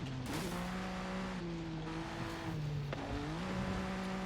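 A Lotus Carlton in Forza Horizon 5 brakes into a corner, its engine note dropping and rising in steady tonal revs with a brief tire squeal, close and fairly loud.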